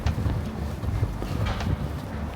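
Wind gusts buffet the microphone outdoors in Tallinn, Estonia, producing a continuous low rumbling blow with uneven surges throughout a short moment, with no voices.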